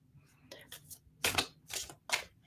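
Tarot cards are being shuffled in short bursts of crisp riffling and flapping, fairly quiet and close, with faint background noise between the brief clusters.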